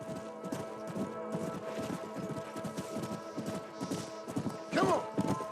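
Horses clip-clop in Red Dead Redemption, a steady run of hoofbeats at moderate distance with a brief neigh near the end.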